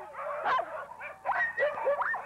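Sled dogs at a mushing camp give a series of excited yips, whines and barks in close, overlapping bursts, loud and near, with no one talking.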